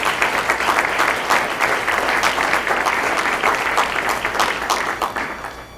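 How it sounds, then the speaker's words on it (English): An audience at a leadership awards and annual meeting gives a loud, sustained round of applause for honorees, with many hands clapping at once and no break. "If we can give them a round of applause"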